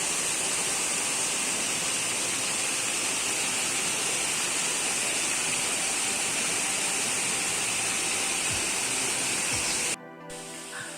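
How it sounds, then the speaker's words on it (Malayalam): Waterfall on a small tributary stream of a river, seen from below the falls, roars as a loud, steady broadband rush for about ten seconds before cutting to a quieter, duller wash at the very end. "ഇത് വെള്ളച്ചാട്ടത്തിന്റെ താഴെ നിന്നുള്ള കാഴ്ചയാണ്"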